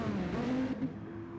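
Race car in a racing video game spinning out under too much power on the Sardegna road track, a steady engine drone with a rising revving tone, close and continuous with no talk.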